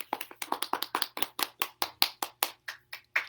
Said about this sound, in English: Nice to have a built-in applause.